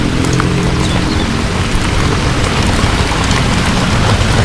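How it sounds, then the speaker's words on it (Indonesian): Heavy rain pours down steadily and loudly during an outdoor spicy kijing clam mukbang, a dense continuous wash of noise filling the scene with no break. "Hujan oh."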